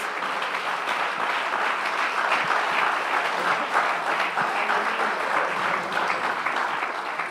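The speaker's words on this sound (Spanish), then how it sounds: "Dele un aplauso fuerte al Señor Jesús." A church congregation claps strongly during a Sunday service, a dense and steady wash of applause at moderate volume that fills the room without pause.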